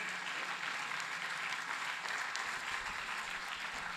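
A large conference audience at a 2023 technology event claps in a thick, sustained roar. Many overlapping hands keep the level constant for several seconds, with no speech on top.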